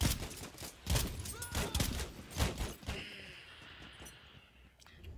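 Rapid bursts of gunfire from a Battlefield 1 match crackle loudly and repeatedly through the first three seconds, then thin out into scattered, fainter shots against a busy battlefield background.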